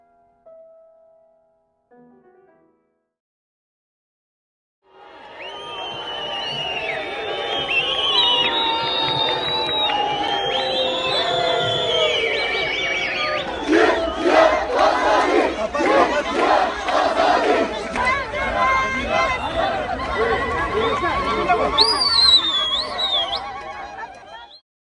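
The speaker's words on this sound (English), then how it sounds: "This is the vibrant sound of one of the many Kurdish protests" A large Kurdish protest crowd chants and shouts in loud, sustained waves after a few seconds of near silence, with a dense roar of voices, cheering and sharp whistles rising near the end.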